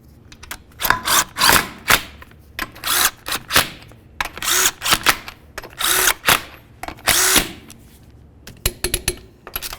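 Power tool buzzing in short repeated bursts as it snugs down five 21mm lug nuts on a 2011-2016 Hyundai Elantra wheel, loud and close with brief pauses between each nut.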